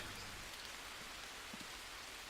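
Steady rain pours down outdoors, a dense continuous hiss of drops hitting the ground with a few faint nearby taps, and no voices.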